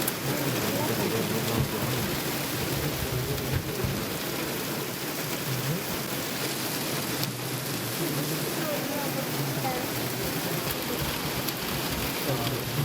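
Heavy monsoon rain pours down steadily in Nagarhole forest near Dammanakatte, a dense, loud, continuous roar with occasional deeper rumbles.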